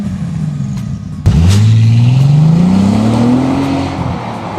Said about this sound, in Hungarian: A csendet a gombnyomásra induló motor mély moraja töri meg